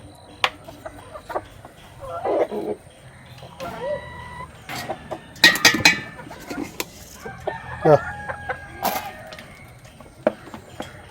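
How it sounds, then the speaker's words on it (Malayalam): Backyard native hens and roosters cluck and call near a coop while being fed, with scattered bursts of louder squawks and crowing-like calls over a quiet background. "ഇതാണ് കോഴികൾ മൂന്ന് പൂവനുമുണ്ട് രണ്ട് നാലെണ്ണുണ്ട് ആറ് പെടക്കോഴിയുണ്ട്"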